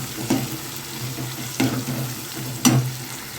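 Onions and green chilli sauté in a pan for sardine fish curry, a soft continuous sizzle broken by three spaced scraping stirs of a spatula.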